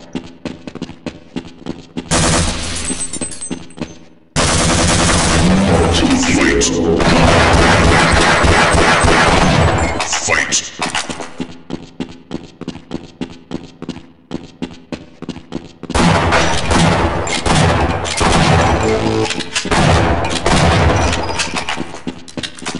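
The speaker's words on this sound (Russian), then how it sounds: "Что за, блядь, убивание с дробовика" Shotgun fire in a Half-Life-style shooter, with dense bursts of loud blasts and rapid shots packed into long stretches and brief gaps between volleys, close and harsh throughout.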